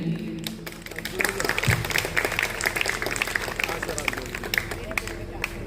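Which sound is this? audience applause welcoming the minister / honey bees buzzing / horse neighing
audience applause welcoming the minister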